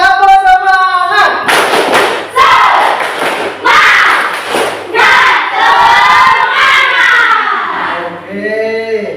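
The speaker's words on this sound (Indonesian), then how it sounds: "Kita kasih tepuk semangat, ya." Schoolchildren in a classroom join a loud rhythmic spirit clap and cheer, a crowd of young voices chanting together over sharp unison claps and thuds that fill the whole clip.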